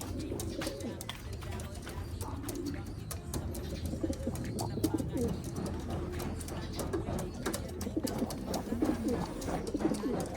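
Blue bar and cross blue bar racing pigeons coo in soft, repeated throaty bursts close by, with someone talking over them and some rustling and clattering around the loft.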